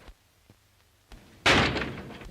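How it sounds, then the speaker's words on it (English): In a 1937 melodrama, a door swings shut with a single loud slam and a lingering rattle after a few faint footfalls and soft knocks in an otherwise quiet room, with no talking. "And close the door."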